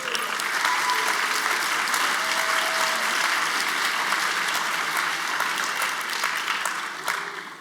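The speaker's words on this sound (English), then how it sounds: "let's clap it up" Audience at a first-generation student graduation celebration claps steadily in a dense, sustained round that fills the room, then thins slightly near the end.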